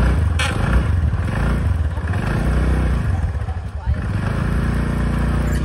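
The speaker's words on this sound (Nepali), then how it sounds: "फाइनली हाम्रो स्कुटर बन्यो अलु अब चाहिँ जाम" A repaired scooter's engine runs close by with a rough, continuous rumble and some rattling, while people talk over it.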